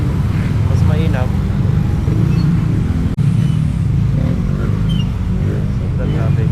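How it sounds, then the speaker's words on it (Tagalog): Dense road traffic heard from a Kawasaki Z900 motorcycle on an expressway, a constant loud engine and wind roar with passing vehicles and a voice talking over it. "Sobrang traffic."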